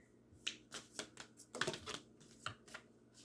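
Stiff tarot cards being shuffled up close, a string of sharp snapping riffles and slaps in uneven bursts, fairly quiet, with no voices.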